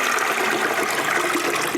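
A bucket of sanitizer water poured onto the top of an Electro Freeze CS4 soft-serve machine, a steady loud rushing splash that continues throughout.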